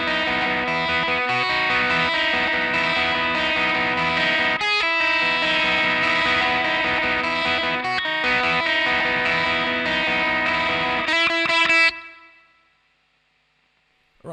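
Distorted electric guitar plays the lead line from a song, a steady, dense strummed and plucked figure that stops abruptly and then rings out briefly into silence.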